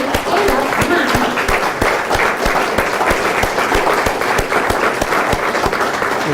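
An audience at an evening history lecture claps warmly for the staff, a loud, sustained patter of many hands with voices murmuring underneath.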